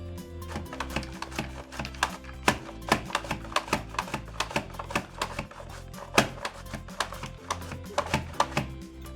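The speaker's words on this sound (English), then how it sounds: "Okay, now let's do some carrots. I'm gonna set it to julienne on the number 4 thickness." Carrots pushed across a Rapid Prep mandoline set to julienne at number 4 thickness make rapid, rhythmic clacking cuts, close and steady for several seconds with no talking.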